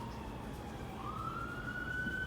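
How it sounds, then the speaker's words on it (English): A distant emergency siren wails, its tone sliding upward, over a steady low background of traffic rumble. "There's these sirens again."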